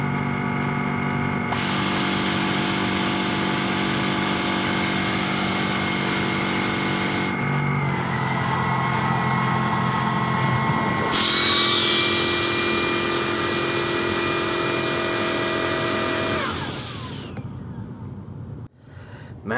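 A Tineco Pure One cordless vacuum cleaner running at maximum suction, a loud steady motor whine that shifts pitch partway through, then winds down and stops near the end.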